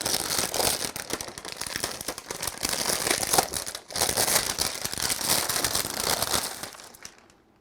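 Packaging of a cheap 1500W power supply being torn open, a continuous loud crinkling and ripping of plastic and paper up close, with one brief pause before it carries on and fades out at the end.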